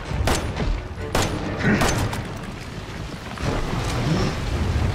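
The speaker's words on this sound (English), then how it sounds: "I don't know where I'm shooting now" Gunfire in Resident Evil 7 rings out in several sharp booming bursts at irregular intervals against a noisy, rumbling game background.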